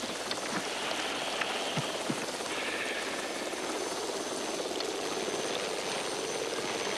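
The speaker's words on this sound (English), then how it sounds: "The chopper." A helicopter passes overhead in a rural mountain setting, a steady broadband rotor wash that stays constant and moderately loud for the whole stretch, with no talking.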